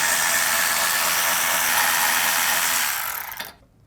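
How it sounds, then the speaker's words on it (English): Power tool with a Torx T25 bit running steadily on a rear sensor bolt of a MK8 Golf GTI, a loud continuous whirring whine that winds down and stops after about three and a half seconds. "First thing we do is take off our rear sensor,"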